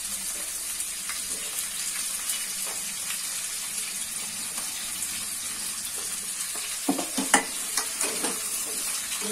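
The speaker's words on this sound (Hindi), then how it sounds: "ये सब को मिक्स करके एटे तेल रे फ्राई कर दो छी।" Mixed vegetables frying in oil in a pan for an Odia-style curry, a steady close sizzle with occasional stirring scrapes and clinks, no talk.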